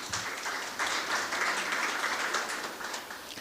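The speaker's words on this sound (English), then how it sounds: "A round of applause for Ms." Audience applause at an entrepreneurship competition event rings out as a continuous wash of clapping, moderately distant and fairly quiet, holding steady for a few seconds.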